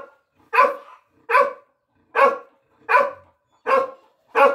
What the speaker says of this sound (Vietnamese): Chó mình ui là nó rất là hăng luôn.